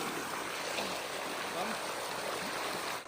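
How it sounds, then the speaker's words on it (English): A creek flows and trickles steadily in a continuous close wash of water that stays even throughout, with no talk over it. "Break from work to cool Miguel off in the creek"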